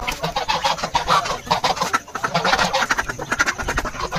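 Ducks and chickens pecking at feed, with close, busy clucking and quacking and rapid pecking throughout.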